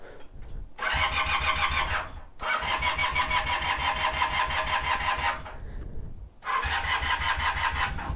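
A 1978 Honda CB250 Twin motorcycle engine cranks and catches, running loud and close, cuts out briefly, fires again, then dies and restarts near the end, with no talking.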